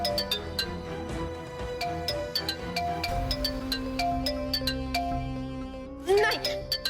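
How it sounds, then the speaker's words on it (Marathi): A phone ringtone chimes in a repeating pattern of bright tones over a musical drama score, with a sharper louder burst near the end; a Marathi domestic scene, no voices heard during the ring. "अगं फोन आलाय आपल्याला"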